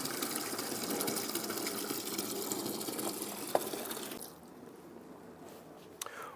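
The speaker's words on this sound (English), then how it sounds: "So right now I'm just filling up the bucket with my filtered water" Filtered water running into a bucket before a car wash, a steady rushing gush that cuts off abruptly partway through, leaving quiet with a couple of small knocks.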